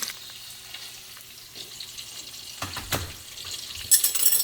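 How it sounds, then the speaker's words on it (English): Head-on Kauaʻi prawns fry skin side down in a hot pan, a soft sizzle that swells into louder bursts of spattering and crackling toward the end, heard close with no speech. "I'm going to be frying these amazing Kauaʻi prawns."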